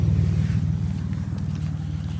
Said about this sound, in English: You can hear the engine run, hopefully.